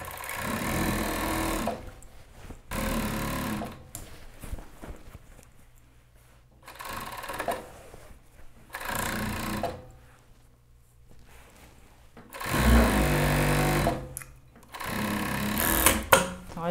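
A sewing machine stitches the sleeve seam of a child's shirt from cuff to hem, running in loud bursts of steady motor whirring separated by quiet pauses.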